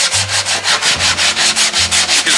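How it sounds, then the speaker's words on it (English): A sanding block fitted with 80-grit sandpaper scrubs back and forth across a plastic bumper cover filled with Evercoat, a loud, steady rasping in even repeated strokes, close up with no talking. "I took another piece of 80 grit, and what I did is I went ahead and put it on a block this time, and I'm gonna block sand this now"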